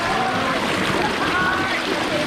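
Close and loud, a small waterfall feeds a stream, its continuous broadband rushing and splashing filling the scene, with faint voices in the background.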